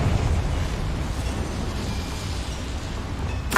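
A Confringo blasting spell explodes in Hogwarts Legacy, a loud rumbling boom that lingers as a dense roar before a sharp crackling burst at the end.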